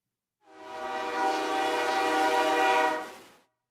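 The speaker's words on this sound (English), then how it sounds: "I'm trying to see that damn train." A passing train sounds its horn in one sustained, harmonically rich blast that swells in and fades out over about three seconds, heard alone at moderate distance.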